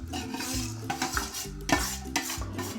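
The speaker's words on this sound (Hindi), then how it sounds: "पानी उबल रहा है तो इसके अंदर हम चावल ऐड कर रहे हैं।" Rice poured into a pot of boiling water while cooking chicken yakhni pulao, with steady stirring and scraping against the pot and soft sizzling bubbles, several louder clinks throughout, no talking.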